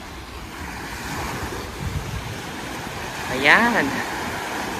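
Surf washes steadily onto El Postiguet beach in Alicante, Spain, with wind rumbling across the microphone. Someone speaks briefly over the waves.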